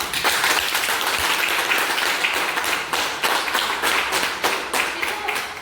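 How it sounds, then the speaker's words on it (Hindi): An audience at a meeting applauds the management, dense and continuous clapping from many hands that carries through the whole clip. "हमारे मैनेजमेंट के लिए जोरदार तालियां"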